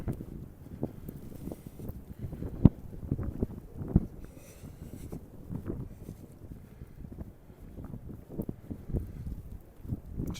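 Wind gusts outdoors on a snowy November day along a creek and city avenue, a faint, low rumbling buffet against the microphone with scattered soft thumps.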